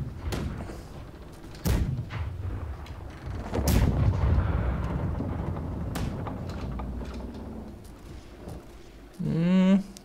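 Cannons from a schooner fire in a naval video game battle against a large ship, giving several heavy booms at irregular intervals. A voice talks in between.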